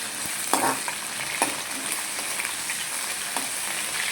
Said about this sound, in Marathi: वांग टाकलं, वांग हलवून घेऊ.